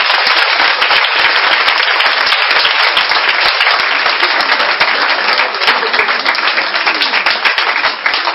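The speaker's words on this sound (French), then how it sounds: "Est-ce qu'on peut acclamer Jésus-Christ" A large worship crowd claps and cheers for Jesus Christ in sustained, dense applause that holds loud and steady from start to finish, with scattered voices mixed in.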